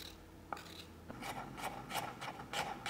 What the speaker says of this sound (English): the best way to peel ginger is with a spoon. You can just scrape off the skin